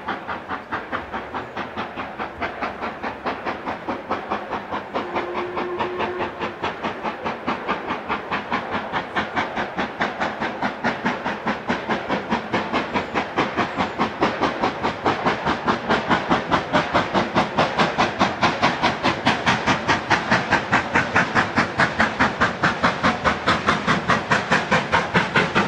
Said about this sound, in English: this time she is arriving at one of the North Yorkshire Moors Railway's most famous stations, Goathland